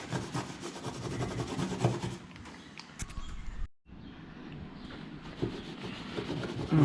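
Scraping old finish off a wooden boat hull, a steady close rasping and rubbing with a brief gap partway through, then the grating strokes resume.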